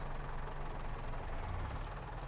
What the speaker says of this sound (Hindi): ये सुपर सीडर मशीन है ना थोड़ी सी हैवी है अपने ट्रैक्टर को जोर बहुत ज़्यादा लगाना पड़ता है